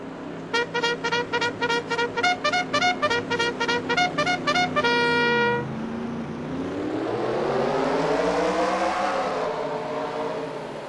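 Modified race cars in a sim racing video game, a rapid pulsing engine note that revs up, then a long whining pass as several cars sweep by loud and close.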